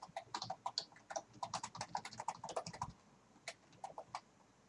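Rapid, uneven keystrokes on a computer keyboard as an email address is entered into a login field, close and clear, with a brief pause before a few final taps.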